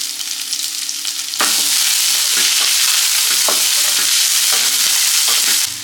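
Two medium chopped onions drop into hot oil in a pan and burst into a loud, steady sizzle that stays close and continuous, with a few stirring scrapes cutting through it.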